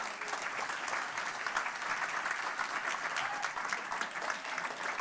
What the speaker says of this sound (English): you need to give him a huge round of applause now